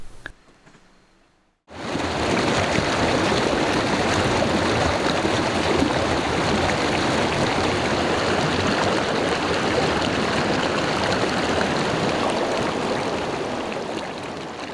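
A creek flows steadily beneath a bridge near old concrete ruins, with a loud continuous rushing and babbling of water close by that starts abruptly after a short quiet moment and holds without talk.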